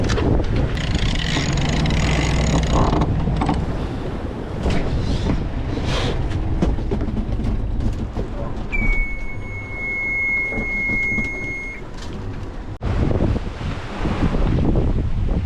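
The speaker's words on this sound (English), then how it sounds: "Much more enjoyable now with some more wind, and we're actually sailing, going at sort of 7 knots." Strong wind roars across the microphone on a sailboat making about 7 knots in the squally English Channel. Constant loud buffeting with rushing water beneath, and a thin whistling tone midway.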